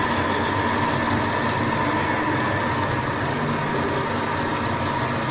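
A kitchen blender whirs at full speed, blending a healthy drink with a loud, steady, unbroken roar and grinding rumble that holds level throughout, with no talking.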